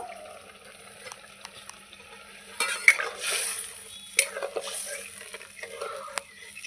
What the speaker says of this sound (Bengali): এবার আমি জল দিয়ে দেবো, অল্পই জল দেব।